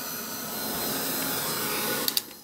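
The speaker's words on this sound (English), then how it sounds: "Just give it a blast of the heat gun and see what happens." A heat gun blasts steadily over drying white paint on a snowy Christmas craft piece, a constant close whooshing roar that swells slightly, ending with a couple of sharp clicks.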